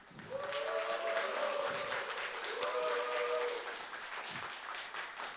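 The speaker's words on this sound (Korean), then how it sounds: "여러분들 두 후보에게 힘찬 박수를 한번 보내주시기 부탁드립니다." A crowd at the Justice Party's Ignite 2017 political event in Korea applauds two presidential candidates, producing a sustained roar of clapping with faint tonal sounds beneath it.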